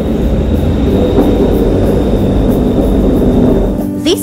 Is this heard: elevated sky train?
yes